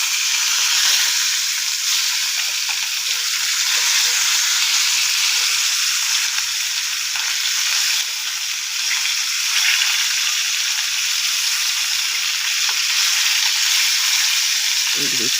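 Fish frying in oil in a pan just after being flipped, a steady loud close sizzle that runs unbroken throughout.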